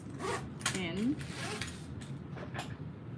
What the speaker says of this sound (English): So now we want to pull those zipper pulls